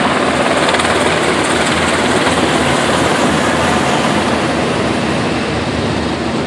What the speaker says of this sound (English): They're all Blackhawks. I'm dead wrong. Blackhawk helicopters. He's just hovering here now.